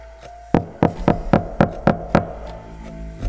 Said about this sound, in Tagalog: Pero tuloy-tuloy pa rin ang katok.